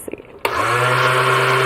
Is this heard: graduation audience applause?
no